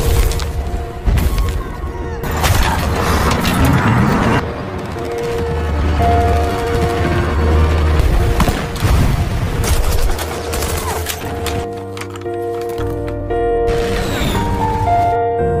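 Dense gunfire from a war film battle scene set during the Battle for Sevastopol, with bursts of automatic fire, single shots and booming blasts running continuously and loud for the whole stretch.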